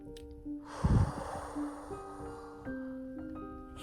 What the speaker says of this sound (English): once you do a couple of deep breaths like that